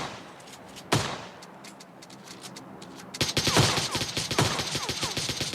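Gunfire in the mobile battle-royale game PUBG Mobile Lite: a sharp shot near one second, then dense crackling volleys of rapid shots over the second half, fairly loud with no talking.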